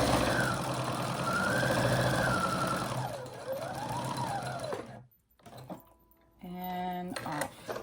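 A sewing machine stitches a moto jacket, running steadily and fairly loud with its motor pitch rising and falling, then stopping before a few short bursts of stitching near the end.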